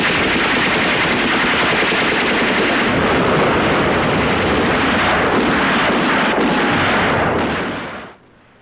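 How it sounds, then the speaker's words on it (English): Dense, continuous gunfire of a WWI trench battle on the Somme, loud overlapping machine-gun bursts and shots with booming blasts underneath, sustained without pause before cutting off abruptly at the end. "Gunshots were whizzing by us as countless Germans lined the trenches ahead."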